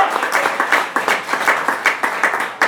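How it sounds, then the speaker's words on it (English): Applause from a small audience, close and loud, with distinct rhythmic claps at a quick steady pace running throughout. "Hey, let's give Roberto a round of applause."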